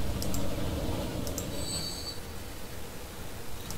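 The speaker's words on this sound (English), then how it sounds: "I'm gonna follow this train for a little bit." Trains running in the game Transport Fever, a steady low rumble of rolling rail cars with brief high metallic wheel squeals partway through, continuous and fairly close, no talking.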